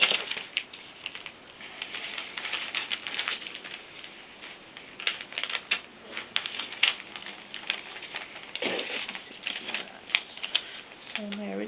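Scissors cut a doll skirt fabric pattern, making quick runs of close snipping clicks with brief pauses between cuts.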